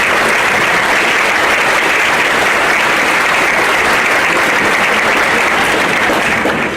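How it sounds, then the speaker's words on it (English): A large audience claps at a spring commencement ceremony, a dense, loud, steady wall of applause that holds evenly for several seconds without a break. "Let's give them a round of applause."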